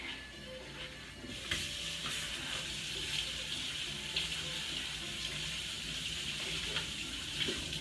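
Cup being rinsed under a running tap in a kitchen sink, a steady hiss of flowing water with splashes and light clinks, fairly quiet and close, no talking.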